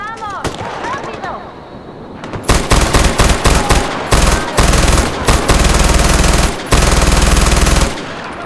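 Bursts of rapid machine-gun fire ring out in the video game Far Cry 4 from a weapon with a very high rate of fire. The loud, dense volleys break off briefly between bursts after a quieter opening.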